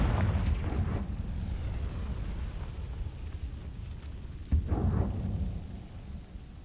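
A Confringo fire spell explosion in Hogwarts Legacy on PC, a muffled rumbling blast over a constant low roar, with a second thud and burst a few seconds later.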